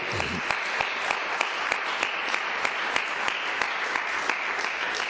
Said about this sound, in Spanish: ¿Cuándo damos un aplauso al Eterno?